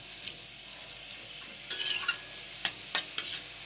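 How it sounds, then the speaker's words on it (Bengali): Food stirred in a sizzling frying pan, with a few quick scraping clinks of a utensil against the metal over a quiet, steady sizzle. "আমি এটাকে নেড়ে চেড়ে ঢাকা দিয়ে দেবো।"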